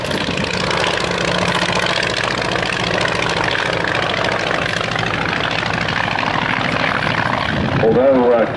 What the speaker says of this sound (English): Although Tracy's Ryan is painted in the colours of the US Army Air Forces, they never actually operated this machine.